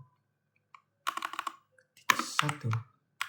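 Close, clear typing on a computer keyboard comes in two quick bursts of key clatter with short pauses between, and no voice over it.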